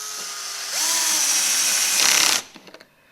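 Cordless power drill on low speed with its clutch set, driving a pocket hole screw into a wood joint: a rising whir that holds a steady high whine for about two seconds, then stops with a few ratcheting clutch clicks, close up.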